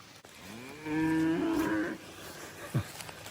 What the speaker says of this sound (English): Couple of good looking heifers right there.